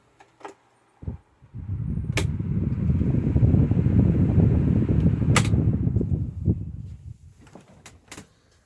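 A 1993 SMC TH-12 12-inch oscillating table fan clicks off, then its low motor hum swells briefly and fades as the blades spin down, with sharp switch clicks before and after.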